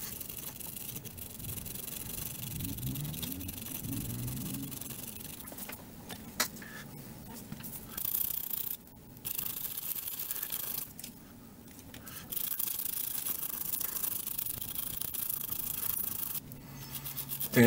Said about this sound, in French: Retirer toute la rouille de là.